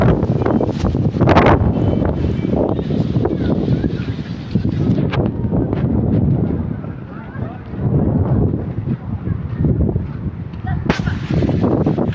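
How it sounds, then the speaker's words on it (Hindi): Strong gusty wind blowing through a park with swings and broken trees, buffeting the microphone in heavy low rumbling surges that rise and ease, with a voice talking over parts of it. "इतनी हवा जो थी ना तेज हवा, देख रहे हो"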